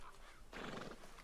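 A horse in the Red Dead Redemption II video game gives a short, quiet whinny that bursts in midway through and fades within half a second, with faint hoof clip-clop around it.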